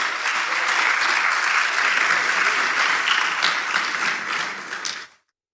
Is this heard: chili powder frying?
no